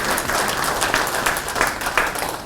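Steady applause from a panel discussion audience, dense and continuous clapping with a few louder swells, no talking over it.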